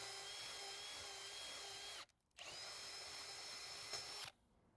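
A power drill bores a pilot hole in wood while building a cheap DIY folding workbench, whining steadily and loud up close for about two seconds, cutting out briefly, then running again before stopping.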